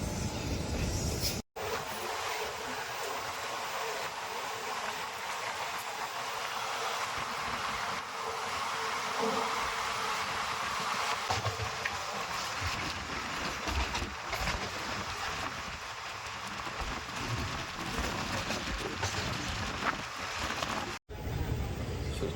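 The Venkatadri Express running an hour late near Renigunta, a continuous rumbling roar of the moving train with wind rush, steady and loud throughout with two sudden brief dropouts.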